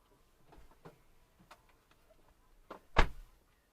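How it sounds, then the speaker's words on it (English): A car door shuts with one solid thud near the end, preceded by a few softer clicks and rattles in a quiet cabin. "the door got closed at 12:30 and 15 seconds"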